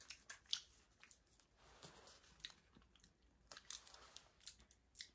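Crisp bites and crunchy chewing of a chocolate crunch bar, close and quiet, with irregular crackling snaps and no talking.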